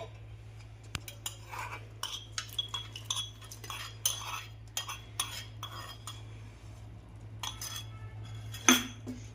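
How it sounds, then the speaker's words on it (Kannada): Sweet pongal being stirred with fried cashews, raisins and coconut, a metal spoon clinking and scraping irregularly against the pot over a low steady hum, with one sharper clink near the end and no talking. "ನಾವೇನು ಇಲ್ಲಿ ಫ್ರೈ ಮಾಡ್ಕೊಂಡಿದ್ವಲ್ಲ ಗೋಡಂಬಿ, ದ್ರಾಕ್ಷಿ, ಕೊಬ್ಬರಿ, ಸೊ ಇದನ್ನು ಇವಾಗ ಇದ್ರಲ್ಲಿ ಹಾಕ್ಕೊಳ್ಳೋಣ"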